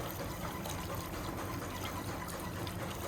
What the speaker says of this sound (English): put some water in, give them a rinse.